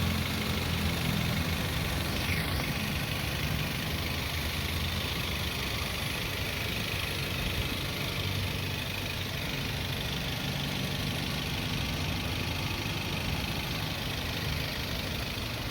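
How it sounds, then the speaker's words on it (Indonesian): A 2013 Daihatsu Terios TX Adventure with manual transmission idles with an even, steady engine rumble that holds unchanged for about fifteen seconds, with no talk over it. "Silahkan didengar sendiri suara mesinnya."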